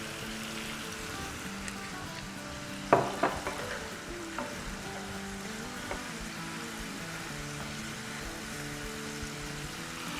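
Small, thin pieces of fish fry in a pan with a constant soft sizzle, broken by a few louder clinks and scrapes that quickly die away, while low tones hum in the background.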